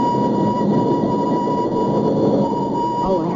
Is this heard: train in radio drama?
yes